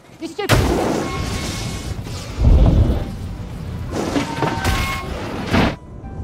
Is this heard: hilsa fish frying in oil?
no